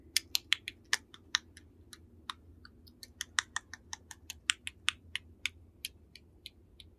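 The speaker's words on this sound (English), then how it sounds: "Long stretch of silence before you do hear that clicking again" Sharp, dry clicks in an audio drama, a rapid irregular series of crisp taps like keystrokes, fairly close and distinct over a low steady hum, with no voices.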